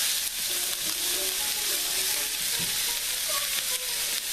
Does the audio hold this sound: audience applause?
no